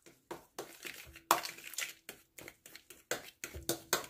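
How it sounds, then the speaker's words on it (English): Thawed bananas being mashed with the back of a fork for sour cream banana bread: a close series of about a dozen soft, wet squishing and crushing strokes in an uneven rhythm, with no talking. "I'm just taking the back of my fork and I'm just smashing it"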